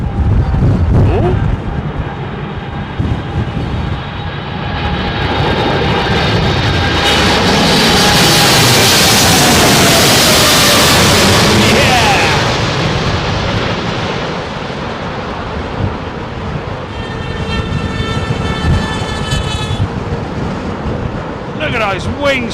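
A jet airliner lands in stormy, gusty wind and its thrust reversers build into a loud roar that swells and fades, heard over wind buffeting, while people talk nearby.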